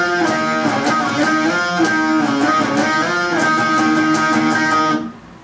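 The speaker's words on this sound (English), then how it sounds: "The second guitar is playing octaves." Two guitars play a song riff, one strumming chord changes while the second doubles the line in octaves, a steady rhythmic pattern at full volume for about five seconds before cutting off, no voices.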